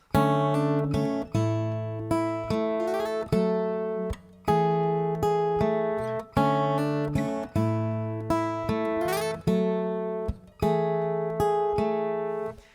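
Acoustic guitar chords of a song plucked string by string in a steady repeating pattern, with a note sliding upward now and then, ringing clearly with no voices.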